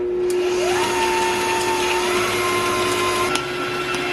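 An electric mixer whipping cream into butter gives a steady, loud motor whine with a constant pitch and a brief shift partway through, running alone without any talk.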